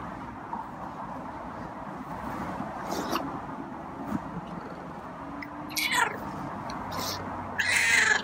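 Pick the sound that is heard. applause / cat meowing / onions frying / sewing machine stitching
cat meowing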